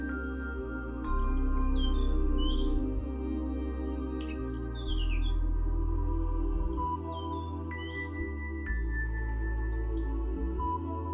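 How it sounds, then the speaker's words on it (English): Several birds sing and chirp together in a rainforest in southwestern Guangxi, overlapping calls and trills at moderate distance, with a steady low ambient hum underneath. "the mild chorus of birds lingers across the woodland"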